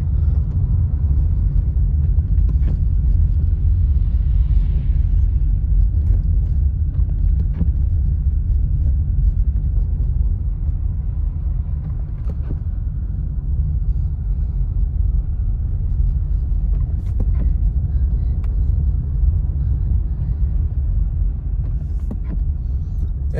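Steady low rumble of road traffic moving through falling snow in Big Bear, California, a dense continuous drone with faint scattered clicks and no clear individual passes.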